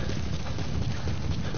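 Horse hooves clip-clop steadily in a video game, a continuous dense trotting rhythm close up and fairly loud, with no talking over it.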